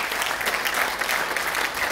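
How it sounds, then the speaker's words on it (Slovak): Audience at a folk ensemble anniversary concert applauding a dancer, a dense steady wash of clapping from a full hall, even and sustained with no voices. "Tak obrovský potlesk pre Lenku Ivanovú."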